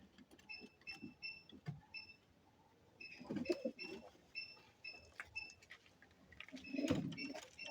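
A myna bird gives repeated whistles and harsh chattering calls nearby, in short bursts with brief pauses between them.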